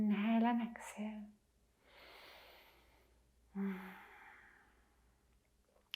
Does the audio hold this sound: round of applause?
no